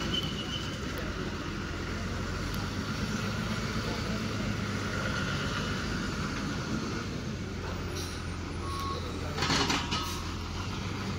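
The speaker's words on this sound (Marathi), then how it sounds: "चोरवणा गाडी आली" A bus pulls in at a village stop in rural Konkan, its engine idling and rumbling steadily close by, with a brief brake hiss or horn near the end; faint talk underneath.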